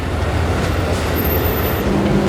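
A commuter train passes on a nearby track beside a hotel construction site, a loud, continuous rolling roar with faint high wheel squeal, filling the whole stretch without speech.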